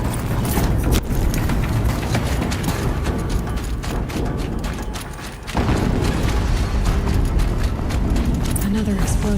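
Another explosion in Horizon Zero Dawn combat on very hard mode, a loud rumbling blast texture with a brief dip midway before a fresh burst of booming noise returns.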